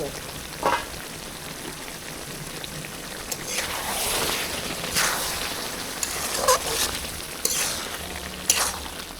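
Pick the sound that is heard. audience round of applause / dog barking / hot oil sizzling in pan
hot oil sizzling in pan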